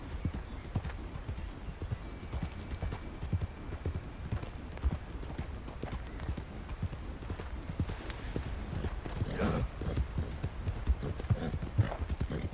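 Rhythmic clip-clop of a horse galloping along a path in Red Dead Redemption 2, with hoofbeats thudding steadily at moderate volume over low ambient game sound. A faint whinny is audible near the end.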